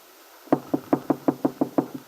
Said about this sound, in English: There is a gentle knock at the door.